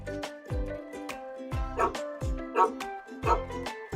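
A cartoon neighbor's dog barks in an animated children's read-aloud, a few short yips spaced through the passage over steady musical background with no talking.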